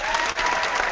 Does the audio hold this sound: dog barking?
no